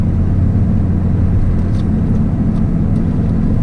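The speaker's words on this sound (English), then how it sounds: "A lot less pops and gargles than I thought." Car exhaust fitted with a Chinese test pipe and HKS exhaust, a loud, steady low rumble droning close by with a few faint higher ticks.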